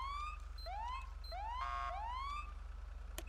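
Police car siren in the video game GTA V, a rising wail repeated in several sweeping cycles with a brief yelp burst in the middle, loud over a low steady hum.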